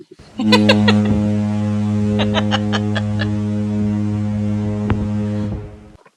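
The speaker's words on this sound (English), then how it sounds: "There you go, foghorn." A deep, sustained foghorn blast drones steadily for about five seconds, loud and close, with a few brief higher chirps or laughs flickering over it.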